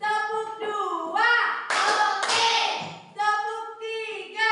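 A group clapping game led in a classroom-style icebreaker, sounding one clap, then two: a few sharp, close hand claps broken up by children and an adult chanting the counts.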